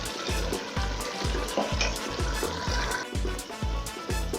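Beans and plantain porridge boils in a covered pot, a steady bubbling and sizzling broken by a regular thumping pulse, likely the lid rattling, heard close up with no talk.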